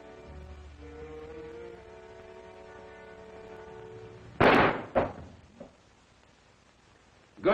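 A sharp gunshot cracks out in a 1938 crime film, a loud single blast followed by a second report and a faint echo, breaking a low sustained musical score, with another burst at the end.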